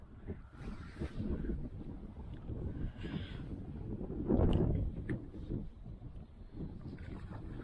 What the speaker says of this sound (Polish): Ale zimno! Tu wieje strasznie.